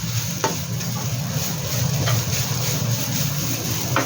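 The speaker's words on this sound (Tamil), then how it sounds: "தேங்காயை சேர்த்து நல்லா கிளறி துண்டி விடணும்" Continuous stirring and scraping of grated coconut in a hot frying pan with steady sizzling, a few spatula knocks against the pan standing out.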